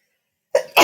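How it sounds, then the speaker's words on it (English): A single close human sneeze comes out of silence: a short, breathy build-up, then a sharp, loud burst. "I'm about to sneeze."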